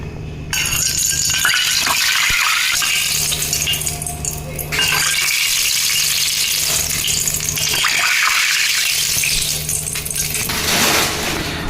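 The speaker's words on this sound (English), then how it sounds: "So now I'm adding a little bit of water." Water is poured into a Maddur vada dough mixture in a kitchen, with close, loud splashing and clinking of a vessel as the batter is worked together.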